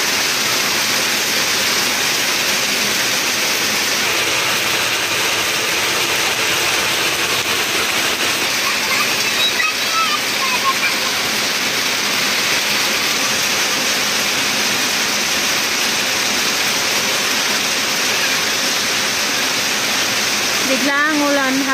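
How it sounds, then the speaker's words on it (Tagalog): Sudden heavy rain pours down near a cornfield while children bathe in it, a loud, unbroken roar of falling water lasting throughout, with faint voices mixed in. "Bigla ang ulan habang nagbubungkal ako ng maisan."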